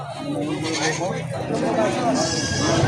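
Native goats bleat in a wavering, nasal series close by at a goat market in Padre Garcia, Batangas, mixed with people talking over outdoor background noise.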